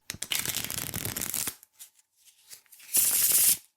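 Oracle cards are shuffled in two quick riffling bursts with a short pause between them, close and crisp with no speech.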